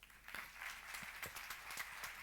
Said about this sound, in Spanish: yo les rogaría que les recibiésemos con un fuerte aplauso